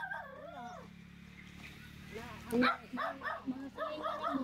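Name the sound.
dog barking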